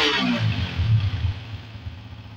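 A Benelli TNT 150 motorcycle engine revs up loudly, then settles into a rough, lower idle rumble, close by with no talking.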